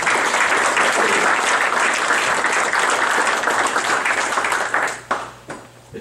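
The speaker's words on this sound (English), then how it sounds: "So let's give Gus a round of applause." A meeting audience gives a sustained round of applause that stays loud and dense before tapering off into a few scattered claps.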